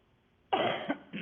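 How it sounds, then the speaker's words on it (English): A person gives a sudden, loud chesty cough that brings up phlegm, followed shortly by a second, shorter cough, close to the microphone with no talking. "now when I cough, stuff comes up."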